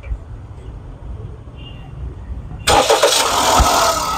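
After a quiet stretch, the 1000cc engine of a 2017 Toyota Passo Moda cranks and catches, jumping into a loud steady running roar up close.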